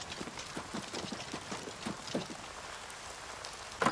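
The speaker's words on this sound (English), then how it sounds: "It's the sound of rain." Rain falls in the video game Oblivion Remastered, a soft, steady patter with scattered drops and light footsteps, ending in a brief louder knock.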